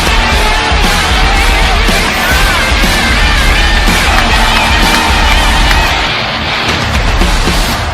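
A capacity crowd at a Royal Rumble wrestling event roars, cheers and applauds in a loud, sustained ovation that fills the arena without a break.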